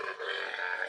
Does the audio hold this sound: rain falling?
no